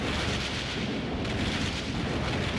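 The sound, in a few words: thunderstorm thunder in Café Enchanté video game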